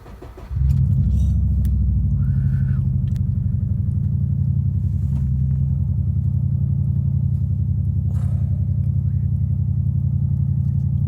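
Straight-piped Subaru exhaust settling into a deep, steady idle rumble after a sharp start, loud and close with a few faint rattles.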